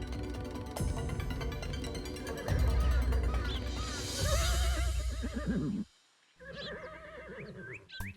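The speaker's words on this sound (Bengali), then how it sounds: "মন্ত্রী মশাই আপনি ঘোড়ার ডাককে মেঘের গর্জন বলছেন?" A cartoon horse lets out a long, loud neigh and whinny with shaky rising and falling pitch, followed after a brief pause by shorter whinnying calls.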